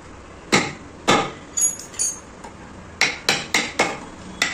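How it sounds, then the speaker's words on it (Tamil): A mallet strikes a chisel while hand-carving a wheat-grain design in wood: sharp close knocks, two spaced hits, a few lighter taps, then a quicker run of five even blows. "இப்போ இந்த பக்கம் அடிக்கணும்."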